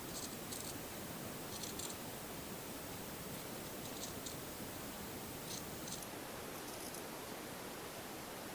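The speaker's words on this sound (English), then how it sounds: "you want to make sure you cut on the outside of the black line" Scissors snipping through shirt fabric along a black marker line, a soft continuous rustling crunch with faint, scattered clipping strokes, quiet and close.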